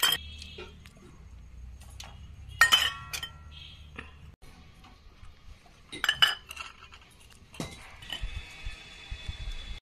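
Steamed eggs lifted out of bowls amid clinking dishes: scattered close clinks and clatters of glass and cutlery, with a couple of louder knocks, separated by quiet stretches.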